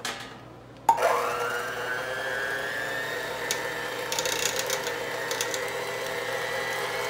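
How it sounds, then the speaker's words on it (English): Electric mixer beating churro dough as eggs are added, starting with a sudden whir that rises and settles into a steady, close mechanical whine with light rattling ticks later. "As you mix, you stop and crack each egg, incorporate well"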